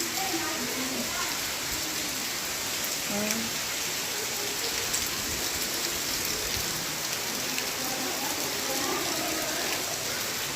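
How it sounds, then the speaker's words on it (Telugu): Heavy rain pours down at Pampa Sarovar in a dense, unbroken hiss throughout, with faint voices barely audible beneath it. "వర్షం చూడండి ఎంత ఫుల్ వస్తుందో."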